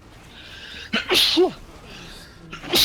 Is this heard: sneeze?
yes